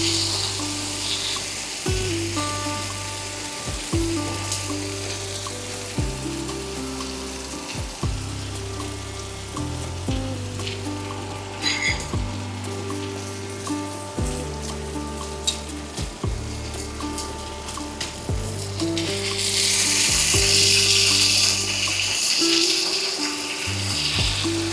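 Mutton sizzling in a pan, released oil bubbling, as mutton stock is poured in, giving steady loud frying hiss with rhythmic stirring clatter and a surge of sizzle toward the end.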